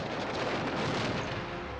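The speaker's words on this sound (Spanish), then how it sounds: "se toma la catastrófica decisión de hacer explotar el puente" Explosion blowing up a railway bridge, a dense, loud roaring blast with rumbling debris sustained across the whole moment, with no voices.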